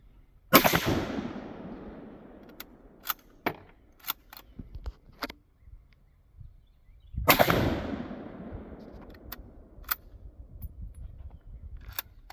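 A double-barrel firearm with a metal buttstock fires two loud, sharp blasts about seven seconds apart outdoors in the Appalachian hills, each ringing out briefly, with scattered clicks and handling noises between and after.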